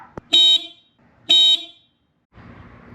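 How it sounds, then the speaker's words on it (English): Two short, bright electronic beeps from a stock Mercedes Sprinter van horn, about a second apart, followed by a low rumbling noise. "if you don't want your Sprinter horn to sound like this"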